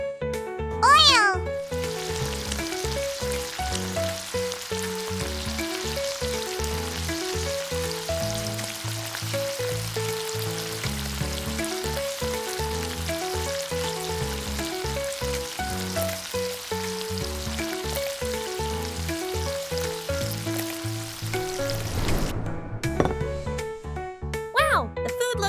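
Mini taro cheese balls coated in egg and breadcrumbs frying in hot oil, a steady close sizzle running throughout under background music.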